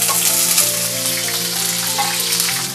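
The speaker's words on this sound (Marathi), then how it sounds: "आपल्याला सगळ्यात आधी ही बटाटी याच्यामध्ये थोडीशी अशी हलकी ब्राऊन होईपर्यंत अशी फ्राय करून घ्यायची आहे." Potato pieces fry in oil in a pan, producing a loud, dense, continuous sizzle close up throughout, with no voices.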